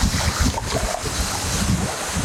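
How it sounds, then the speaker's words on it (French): Strong wind buffets the microphone beside the Rhône river during a stormy feeder fishing session, a steady loud roar of gusts and rumble with no voices. "Le vent c'est un peu embêtant mais c'est bien pour les poissons toujours"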